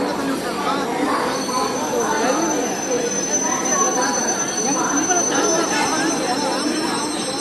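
The Chennai Express creeps forward slightly at Aluva railway station, a continuous close rumble with faint wheel squeal and station noise, while voices talk nearby throughout.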